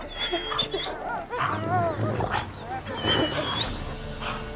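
Dogs bark, yelp and whimper in a chaotic fight with a trapped, roaring beast in a video game, the snarls and cries dense and overlapping, with voices speaking over the noise.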